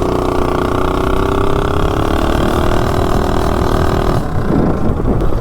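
A Coleman mini bike with a Predator 212 engine and stock cylinder head accelerating from 0 to 30 mph, its small single-cylinder motor revving loud and rising steadily in pitch before easing off near the end.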